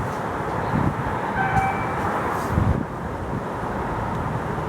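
A train rolls along the track past a lineside signal, a steady broadband rumble with wheel noise and a few faint high squeals, staying fairly even throughout with a brief swell near the middle.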